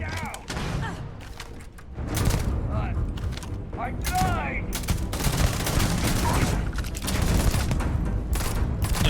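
Bursts of video-game gunfire and thuds in Starfield, several rapid shots and impacts close and loud, mixed with chirping effects and voices talking throughout.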